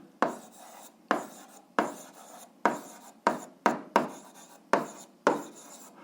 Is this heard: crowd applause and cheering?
no